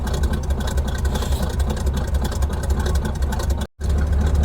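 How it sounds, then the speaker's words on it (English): A truck engine idles steadily nearby, a constant low chugging rumble with a brief dropout near the end before resuming. "the truck's running perfect. 40 pounds, idling away, charging."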